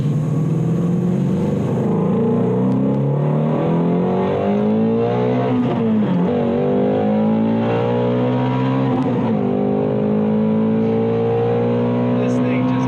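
The engine of a 2018 Ford Mustang Shelby GT350 holds a loud, steady roar that climbs and falls in pitch as it accelerates and eases off. It stays close and continuous under a talking voice.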